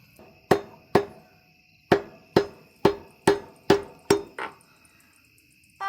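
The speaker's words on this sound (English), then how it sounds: "I'm supposed to hammer that in" A hammer strikes a wheel bearing into a hub on a farm, about nine sharp metallic blows in an irregular rhythm, each ringing briefly, close and clear with no talking.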